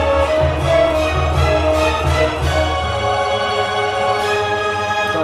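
Orchestral arrangement of a song played on a Korg Kronos keyboard, a dense, loud blend of layered sustained tones and rhythmic accents running continuously without speech.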